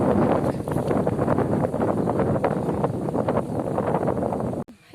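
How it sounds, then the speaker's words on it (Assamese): Wind gusts across an open green field below hills in a village, buffeting the microphone with a continuous rough rumble and rustle that ends abruptly in a sharp click. "আৰু বতাহ দি আছে"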